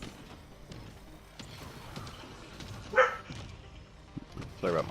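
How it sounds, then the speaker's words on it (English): Dogs in a household bark during a video game session, giving one loud bark burst at mid-clip and a few more yips near the end, under ongoing talk and game sounds. "Sorry about my dogs."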